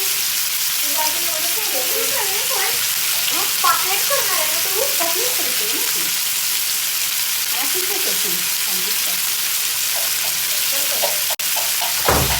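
Fish fries in a pan over a full gas flame with a loud, steady hiss that runs the whole time. A voice talks quietly under it, and one sharp tap comes near the end.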